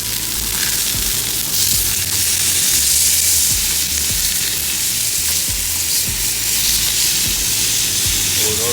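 Chuck eye steaks sizzle loudly on a Himalayan salt rock, a close, dense, continuous hiss of frying with small pops and crackles running through it, steady throughout and with no talk.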